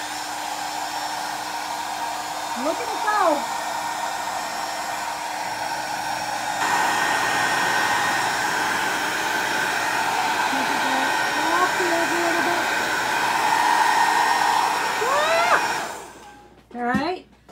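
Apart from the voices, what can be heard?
hair dryer blowing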